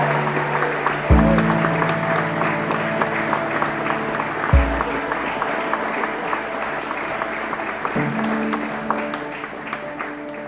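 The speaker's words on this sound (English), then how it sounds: "You're going to have to clap wildly again" A crowd claps wildly and continuously as a newly married couple is introduced at a wedding reception, while low sustained music notes play underneath the applause.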